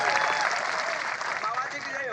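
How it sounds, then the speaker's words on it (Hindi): A crowd at a Birsa Munda Jayanti gathering in Nalchha claps loudly for Jeetu bhai, the newly elected janpad president, in a dense, continuous burst of applause mixed with voices. "तो जीतू भाई के लिए जोरदार ताली"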